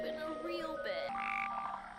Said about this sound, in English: Oh, that's a thick frog.